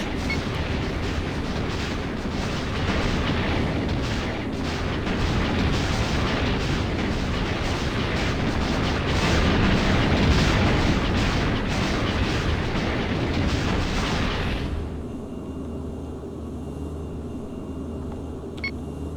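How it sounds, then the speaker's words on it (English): Continuous heavy laser and cannon fire roars during a space dogfight in the Star Wars flight game X-Wing Alliance, a dense, rumbling barrage that cuts off abruptly near the end into a quieter hum. "I'm under heavy fire!"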